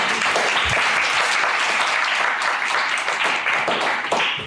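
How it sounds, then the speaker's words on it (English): An audience at a forum on art, media and copyright applauds loudly and continuously, a dense wash of many hands clapping nearby without letting up. "So everyone give a round of applause for George."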